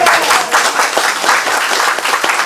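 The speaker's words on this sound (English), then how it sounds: "Sharon, let's clap for Sharon and her designation." Applause at a full council meeting as the room claps for Sharon on her designation: dense, steady clapping from many hands, loud and close, with no talk over it.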